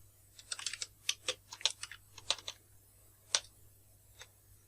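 Text being typed on a computer keyboard while editing in Camtasia: a quick burst of close, crisp key clicks, then a pause, then a few scattered keystrokes, with no talking.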